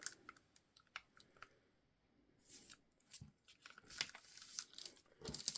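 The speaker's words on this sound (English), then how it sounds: "just going to fold it in half" A sheet of paper being folded in half for a garden journal makes quiet, close crinkling and rustling, with a run of sharp creasing clicks and crackles toward the end and no talking.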